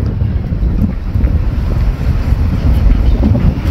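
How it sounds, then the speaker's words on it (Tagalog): Strong wind gusts buffet the microphone outdoors, a constant loud low roar that keeps up the whole time. "Ang lakas ng hangin dito ngayon. Sobrang lakas ng hangin."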